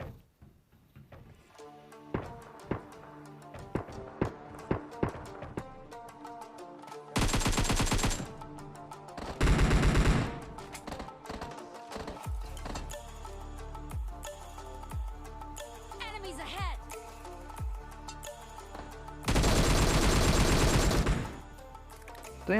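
Gunfire in a battle royale video game: sharp single shots and rapid automatic bursts, some long sustained loud volleys, with sparse game sounds between them and no talk.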